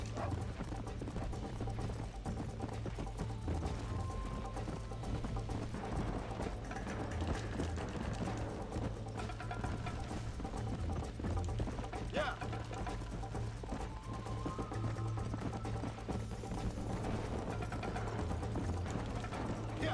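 A horse gallops in Red Dead Redemption, with steady rhythmic hoofbeats running under game ambience and someone talking throughout.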